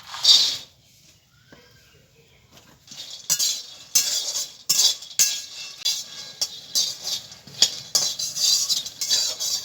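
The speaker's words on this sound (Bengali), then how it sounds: "বাদামটাকে আমি একটু ভেজে নেব।" About 200 grams of raw peanuts are dry-roasted in a hot kadai, with a spatula scraping and clinking against the metal in irregular bursts, close and fairly loud, after a brief quiet start.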